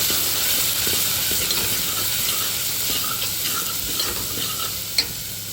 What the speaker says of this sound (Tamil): ரசம் மசாலாவை எண்ணெயில் போட்டுக்கலாம் கொஞ்சமாக கடுகு காஞ்சி மிளகாய் போட்டு அதை நல்லா பொரிய முடியும்